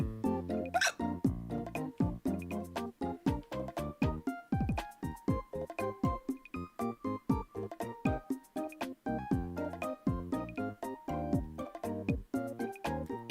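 A voice imitates hiccups in a rapid, uneven series of short, sharp vocal bursts, close and fairly quiet, with no other sounds.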